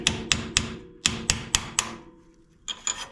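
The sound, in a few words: hammer tapping flat chisel to loosen shock locking collar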